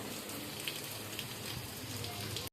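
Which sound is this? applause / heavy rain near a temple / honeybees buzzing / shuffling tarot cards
heavy rain near a temple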